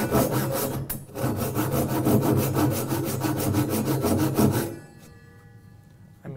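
A Japanese ryoba pull saw cuts through a piece of hard oak, about fifteen quick rhythmic rasping strokes, close and loud, then stops abruptly and a quieter pause follows.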